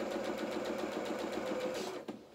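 A sewing machine stitches through a single layer of dress fabric at the top of a dress, a close, rapid, steady mechanical whirr that stops abruptly near the end with a small clunk.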